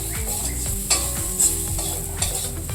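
Ground spices, turmeric, cumin and coriander, and green chillies being stirred and fried in a pan, a loud close sizzle with rhythmic scraping of a spatula against the pan and a few sharper clinks, no talk.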